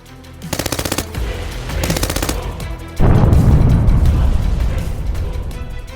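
Loud bursts of rapid machine-gun fire crackle during a military commando raid on a residence, two fast rattling volleys followed by a heavier, booming barrage that slowly fades.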